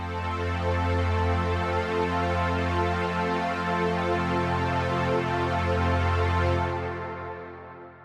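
A Logic Pro X synth pad holds a sustained four-note chord with an octave in the bass, rich and steady for about seven seconds before fading out, with no talking.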